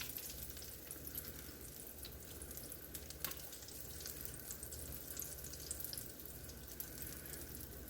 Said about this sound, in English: Literally, this is like frying the donut.